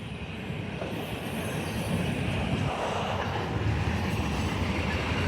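A CSX freight train hauling tank cars rumbles past close by in a continuous, loud roar with a faint metallic squeal, and no one speaks over it.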